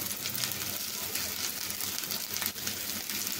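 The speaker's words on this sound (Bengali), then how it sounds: "এখন পেঁয়াজটা একটু নরম হয়ে গেছে, একটু হালকা ভাজা হয়ে গেলে আমি মাংসের টুকরা দিয়ে দিব" Onions softening in a frying pan give a quiet, continuous sizzle and crackle at close range, steady from start to finish with no talk.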